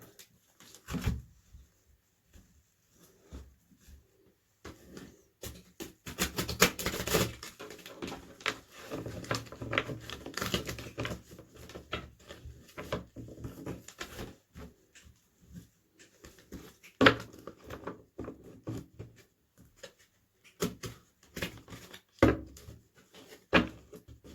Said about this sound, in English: We give them another little shuffle.